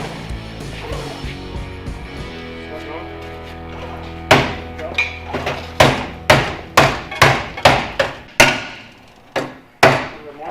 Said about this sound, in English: That's how I adjust stuff, is with hammers.